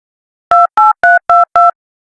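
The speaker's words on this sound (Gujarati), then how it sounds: "1000 ફરીથી લગાવું ફોન." Five short, evenly spaced telephone keypad dialing tones, each a clean two-pitch beep, loud and close with no talk over them, heard while someone redials a phone call in a rural farming setting.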